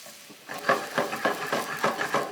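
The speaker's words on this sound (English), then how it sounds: "I'm also going to use just sort of a flat spatula to scrape and pull up all of those brown bits on the bottom." Flat spatula stirring and scraping browned bits from the bottom of a sizzling pan, a series of rhythmic scraping strokes about every quarter second over steady frying, close and without talk.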